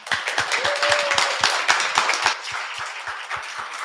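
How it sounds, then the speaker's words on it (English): Audience applause after an interview with an emerging fashion designer: a small crowd claps in a scattered, sharp patter close by, gradually thinning toward the end, with no talk. "I want to give Tracy one more round of applause."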